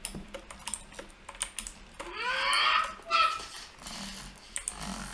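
Typing on a mechanical keyboard with blue switches, quick clicky keystrokes in irregular bursts, with a dog whimpering and growling in the middle.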